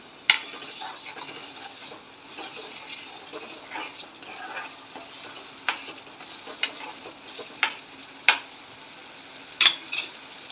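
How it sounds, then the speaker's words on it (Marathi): Masala for egg curry is stirred in a pan over a soft, constant sizzle, broken by sharp spoon scrapes and knocks against the pan at irregular intervals. "आता आपण मसाला फिरवून घेऊया"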